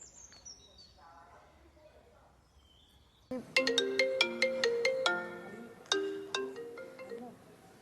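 A phone ringtone plays for an outgoing call, a bright melodic tune of sharp chiming notes repeating in short phrases, loud and close after a quiet stretch.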